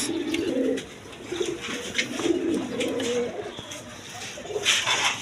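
Red Gola pigeons for sale coo repeatedly in low throaty bursts nearby over a constant background hiss, with no one speaking.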